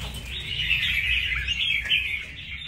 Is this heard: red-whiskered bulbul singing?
yes